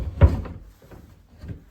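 A slightly sticking drawer in a hotel room is pulled open, giving a short knock and scrape followed by fainter rattles.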